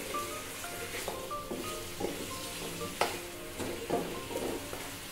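Cumin, star anise, cinnamon and curry leaves fry in a pan of oil for a korma while a spoon stirs them, giving a steady close sizzle broken by several sharp scraping clinks.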